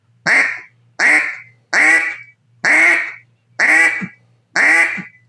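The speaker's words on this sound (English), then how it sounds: "So that's a quack, extending a quack out." A duck call is blown through six separate drawn-out quacks in an even rhythm, each loud and close with a short gap between, and no talking over them.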